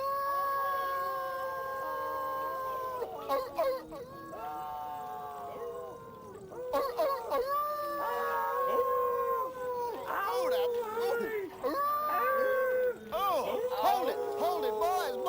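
Several human voices imitate coyotes, howling at the moon in long rising and falling wails that overlap, break off and start again, loud and close for the whole stretch.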